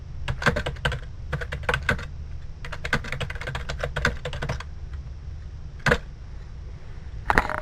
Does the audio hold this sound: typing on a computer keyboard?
yes